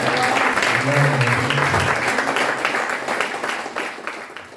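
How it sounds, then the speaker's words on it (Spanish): A church congregation applauds for a Spanish-language mission anniversary service, with steady dense clapping that fills the room and slowly fades out, while a voice speaks over the start. "Por favor, un fuerte aplauso al Señor."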